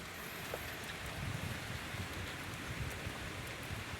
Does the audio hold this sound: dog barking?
no